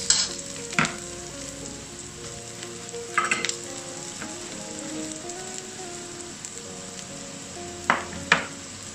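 Green beans, onions and mixed vegetables stir-fry in a seasoning pot, a steady close sizzle with scraping stir strokes and louder clatters around the first, third and eighth seconds.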